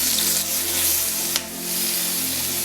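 Big chillies sauté in a pan with salt, producing a steady close hiss and sizzle with a low hum beneath and one brief sharp clink near the middle, with no speech.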